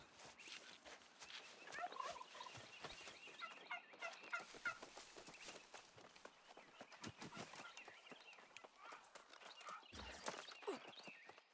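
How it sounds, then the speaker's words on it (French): A turkey in the video game New World gobbles in quick, rattling bursts, with hoof-like clip-clops and footsteps mixed in around it, fairly faint and layered in a game soundscape. "Le petit dindon, là."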